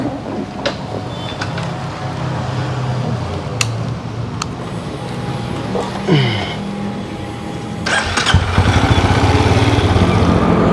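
A Benelli Imperiale 400 motorcycle engine runs steadily up close, its rumble rising as it revs and pulls away, with wind noise and occasional clicks.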